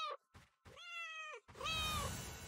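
Cat meows in the video game DYSMANTLE: two clear, loud, drawn-out meows, the second rising and fading, with a short thump between them.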